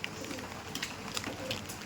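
Pakistani Chotiyal breed pigeons coo softly in a few short repeated calls over a busy background of rustling and mixed noise.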